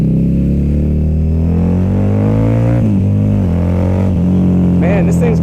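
A 2014 Harley-Davidson V-Rod motorcycle engine accelerates under way, a loud, steady droning roar that climbs gradually in pitch, with a small shift and pitch swoop near the end, plus wind rumble.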